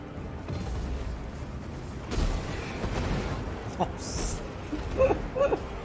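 Side cannons on an airship in the strategy game Total War: Warhammer 3 fire in a dense, rumbling battle mix: heavy booms and a steady low roar, with players talking over them throughout.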